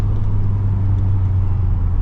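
A VW Golf MK4 1.8T with a newly replaced uprated fuel pump pulls away from a standstill, its engine a steady, loud, close low rumble that holds evenly throughout with no break.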